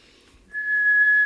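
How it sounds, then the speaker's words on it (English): A person whistles one steady, clear note, starting partway in and held loud and close to the end. "I could whistle just one note"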